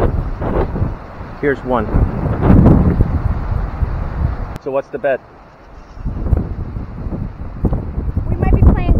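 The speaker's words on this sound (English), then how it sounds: "Yeah, it's getting a little windy." Gusty wind buffets the microphone outdoors at a campsite beside a Thor Challenger RV on a golf outing as a storm approaches, a steady low roar running under intermittent conversation between several people.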